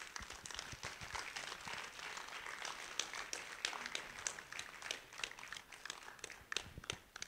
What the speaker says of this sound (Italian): Per Gregorio Mussi, un applauso.